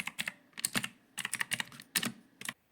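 Fingers typing on a computer keyboard nearby: quick bursts of clicky keystrokes broken by short pauses, ending abruptly in near silence, with no talking.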